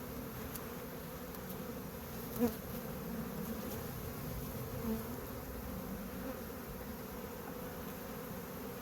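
Steady droning buzz of many honeybees at an open hive, continuous and fairly soft, with a couple of brief louder passes nearby.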